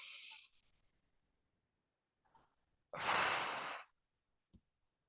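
A single forceful breath blown out during a balance class exercise, a loud breathy exhale lasting under a second, preceded and followed by softer faint breaths in a quiet room.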